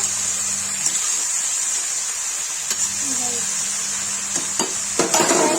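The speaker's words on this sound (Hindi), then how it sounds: "तो गाइस चला देंगे, तब तक ये सब पकेगा।" Aloo torai (potato and ridge gourd) curry being stirred in a pan, with a soft steady sizzle and scattered light scrapes and clinks of a spoon against the pan, close and continuous with no talking.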